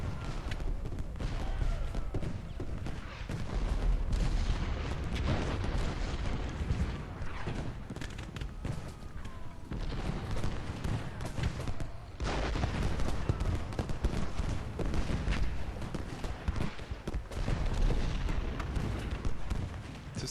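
Artillery fire in the Civil War strategy game Ultimate General: Gettysburg: a continuous barrage of overlapping cannon booms and crackling volleys that stays dense and fairly loud for about twenty seconds, with no one speaking.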